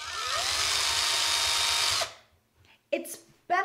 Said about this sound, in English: So what you'll do is find your center and then just drill the hole.